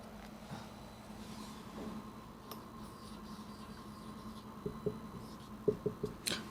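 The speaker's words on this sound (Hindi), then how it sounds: "पहले कंप्लीट लिखता हूँ फिर बताता हूँ" A teacher writing on a board during a grammar lecture, with faint scratchy strokes that turn into a quicker run of distinct taps toward the end, and no talk over a quiet room.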